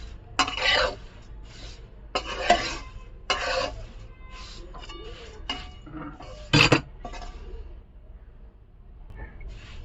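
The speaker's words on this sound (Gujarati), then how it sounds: "આપણા પૌવા એકદમ શેકાઈ ગયા છે। આ તમે જોઈ શકો છો એનો જે અવાજ આવે છે।" Nylon poha roasting in a pan is stirred with a spatula, giving several loud rustling, scraping bursts of dry flakes against metal with quiet gaps between them.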